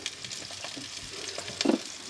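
Eggs frying in the recessed cups of an egg pan at a Potawatomi State Park campsite in Door County, Wisconsin: a steady, soft sizzling hiss that swells briefly near the end, with no voices.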